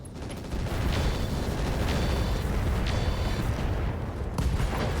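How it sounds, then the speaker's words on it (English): A Gauss rifle blows apart on a mech in the RogueTech game, a dense roaring explosion with crackling debris and short metallic pings over a sustained rumble, no voices. "that's a Gauss rifle explosion and one dead mech"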